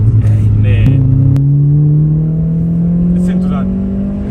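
Renault Clio RS engine revving steadily upward toward 7,000 rpm, a loud continuous rising drone close by with a brief shift in pitch early on, while people talk over it.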